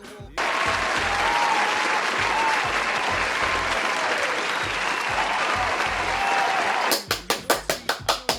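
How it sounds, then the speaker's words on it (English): A crowd at a London writing challenge event bursts into sustained applause, loud and dense for several seconds, then thins into a handful of distinct, rhythmic claps at the end. "we're going to give them a round of applause"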